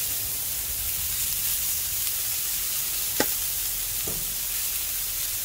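Burger patties sizzle on a home grill, a steady frying hiss that runs throughout and is joined by a couple of sharp clicks partway through, with no talking.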